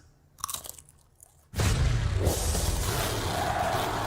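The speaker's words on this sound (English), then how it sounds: "Flavor, flavor, flavor! Crunch! Cheesy grooves." Cheesy Grooves snack chips crunch loudly and closely in a sudden burst of chewing that follows a few quieter sounds and then continues steadily.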